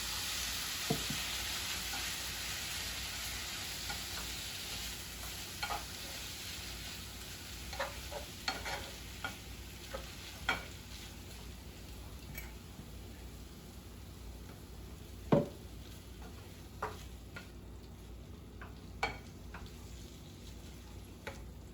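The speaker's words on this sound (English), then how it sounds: "So I'm gonna go ahead and add the sauce." Sauce for tinga sizzles steadily in a hot pan, a continuous bright hiss with occasional small pops and spoon clicks throughout, no talking.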